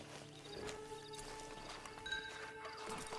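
Horse hooves clip-clop in Red Dead Redemption 2, a faint, fairly steady walking rhythm under low game ambience, with a brief whinny-like sound in the middle.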